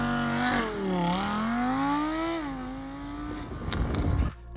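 An Audi R8 with a naturally aspirated 610-horsepower V10 accelerating hard, a loud, close engine howl whose pitch rises and dips through gear changes before breaking into a rougher burst at the end.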